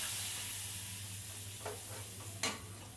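Garlic and curry leaves sauté in a pan for a spinach and buttermilk curry, a soft steady sizzle with a couple of brief scraping stirs near the end.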